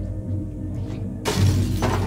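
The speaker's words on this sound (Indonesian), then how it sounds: "mecahin kacanya." Glass shatters in the Little Nightmares video game, a sudden bright crash erupting after a quiet rumbling ambience and ringing on for about half a second before tapering off, with no talk.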